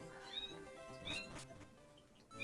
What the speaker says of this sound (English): There's a cat squeak in the background.